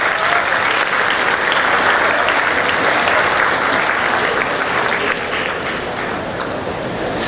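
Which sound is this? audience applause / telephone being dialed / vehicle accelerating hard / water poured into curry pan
audience applause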